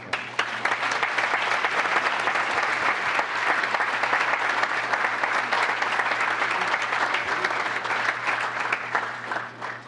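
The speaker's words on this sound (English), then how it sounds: "we'll definitely want the audience to applaud" Audience applause at a town council meeting, a sustained, even wash of many hands clapping in a hall, steady and moderately loud for about ten seconds.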